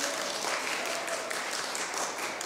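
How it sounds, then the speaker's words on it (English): A church congregation at a Sunday service applauds after singing happy birthday, producing a steady, fairly soft wash of many hands clapping that continues evenly throughout without any voices. "Let's give her a round of applause."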